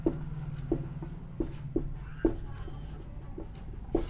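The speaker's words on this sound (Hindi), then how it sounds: "यहां लिख देता हूं।" A teacher writes on a board during a lesson, giving short tapping strokes and scratchy rubs at an irregular pace under a low steady hum, close and fairly quiet, with no speech.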